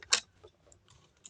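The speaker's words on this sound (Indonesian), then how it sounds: "geus gunting deui" Scissors cut paper for a wayang golek puppet of the buta mabok giant figure: one sharp, close snip near the start, then a few faint light clicks and rustles.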